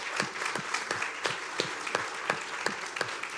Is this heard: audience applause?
yes